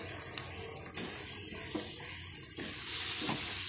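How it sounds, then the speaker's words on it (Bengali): Chicken pieces drop into a wok of cooked-down spice masala and sizzle, a quiet hissing fry with soft scraping stirs and a few clinks, rising into a brighter hiss toward the end. "এবার চিকেনটা আমি এর মধ্যে কড়াইয়ে দিয়ে দিচ্ছি।"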